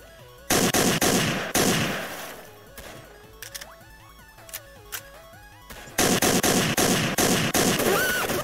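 Rapid bursts of gunfire from the Roblox game Ragdoll Mayhem, loud and dense at the start and again near the end, with a quieter stretch of scattered shots and tonal game effects in between.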